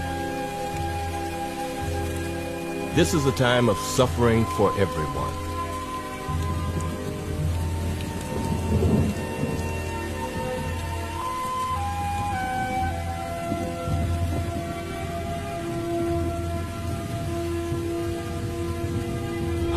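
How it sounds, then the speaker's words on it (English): Cold, heavy rain patters steadily on surfaces at night, joined early by a loud, close rising and falling wail, while a narrator speaks over it. "Cold, hard rain."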